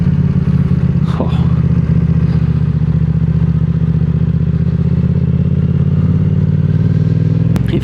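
A motorcycle engine drones steadily and loudly while the bike is ridden on an evening road trip to Christchurch, with a constant low rumble, slight clattering and a brief sharp click near the end.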